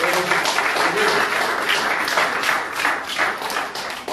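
A church congregation applauds steadily and loudly, dense clapping filling the whole stretch without pause.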